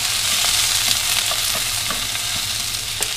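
Onions sizzling in oil in a pan for Cantonese tomato and beef over rice: a steady, dense hiss of frying with scattered small pops and crackles throughout, close and fairly loud, with no talk.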